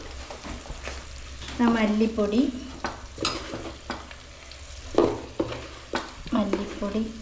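Coriander powder stirred into frying masala with chilli powder and turmeric in a pan for a Kerala beef curry, making repeated scraping strokes over a steady sizzle close by, with some faint talk in the background.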